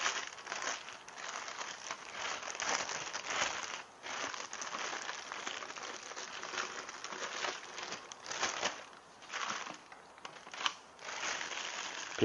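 Plastic vinyl cover being peeled off a newly unboxed Hurion hydrogen water machine packed in styrofoam; continuous crinkling and rustling, close and fairly loud, with a few brief pauses.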